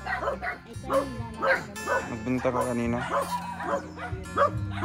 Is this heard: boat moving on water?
no